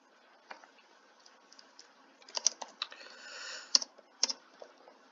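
Light clicking of typing on a computer keyboard, scattered keystrokes that come in short bursts, close and fairly quiet with no voices.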